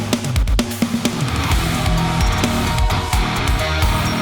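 MixWave drum plugin kit playing a fast roll down the toms, rack tom 1 through rack tom 2 to floor tom, with cymbals: loud, busy, close-miked hits that grow deeper and fuller as the fill descends.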